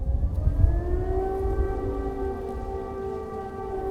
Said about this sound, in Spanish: Una repentina sirena de ataque aéreo parece indicar que Rusia, por ahora, mantiene su táctica